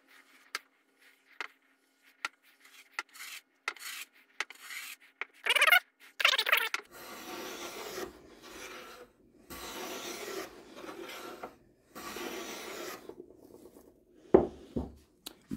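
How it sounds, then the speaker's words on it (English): A hand plane, either a Lie-Nielsen or a Jorgensen, taking thin wood shavings: sharp clicks followed by several rough swishing strokes, close and fairly quiet, with no voices. "Taking pretty thick shavings. Let me take it down a little bit. Do some nice thin ones."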